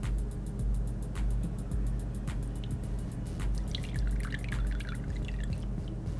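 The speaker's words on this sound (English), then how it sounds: "Now I'm using this juicer to tease this lime juice" A lime squeezed in a handheld juicer gives off wet, intermittent dripping and trickling close by, over a constant low background hum.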